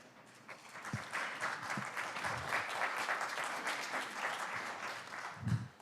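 Scattered audience clapping at a city committee meeting, faint and somewhat distant, swelling into a brief round of applause with a few stray claps and murmurs.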